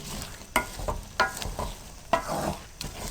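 A spoon stirs potatoes and eggs frying in a pan, scraping in rhythmic strokes about every half second over a soft, constant sizzle, close and fairly quiet.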